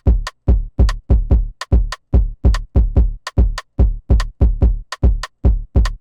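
A Jersey club kick with a bright rim hit stacked on top, built in FL Studio, loud and dry, playing a bouncy syncopated pattern of about twenty hits with the rim's sharp click riding each punchy low thump.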